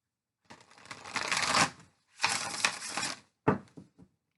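A deck of tarot cards is riffled in close, papery shuffles. Two longer fluttering passes are followed by a short final riffle, with no talking.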